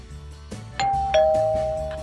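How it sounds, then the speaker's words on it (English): A doorbell rings indoors in a home kitchen, with a few dull knocks followed by two clear, sustained electronic chime tones, the second slightly louder. "Oh, there's the doorbell."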